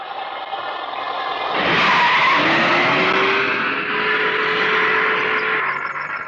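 A car brakes hard to a stop with loud skidding, squealing tires. The screech rises sharply, swells, then tapers into a long drawn-out squeal over engine noise.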